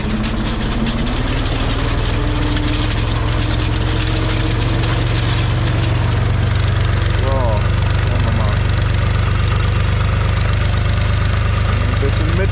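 A tractor engine drones steadily and loudly while sowing a field, a constant low rumble with a faint knocking running throughout, close to the microphone and uninterrupted.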